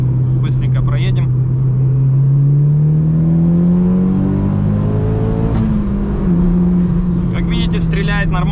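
Mitsubishi Lancer Evolution 8 engine accelerating steadily from inside the car, a strong droning note rising in pitch, with a brief shift dip before climbing again, while someone talks over it.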